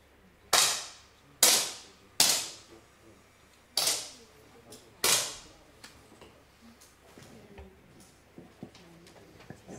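Five sharp, loud cracks of 60-shot air rifle shots in a junior shooting competition final, spaced about a second apart, each ringing briefly, followed by faint scattered clicks and handling noises.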